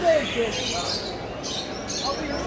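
Budgies, parrots and canaries chirping at an indoor bird market in Bursa: short tweets and whistles over a dense, busy crowd murmur, fairly loud and close.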